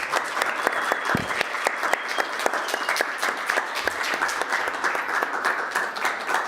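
Sustained applause from a crowd at the ESN Estonia 59th National Assembly, a continuous wash of many hands clapping at steady moderate loudness with a few sharper individual claps standing out.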